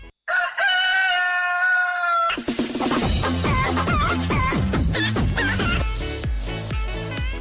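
A rooster crows loudly and close by, one long cock-a-doodle-doo followed by a second, harsher run of crowing calls, with no voices around it.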